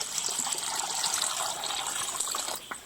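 Drinking water gushes and splashes steadily into a container during a long walk to fetch water, a continuous close rushing flow with no talk.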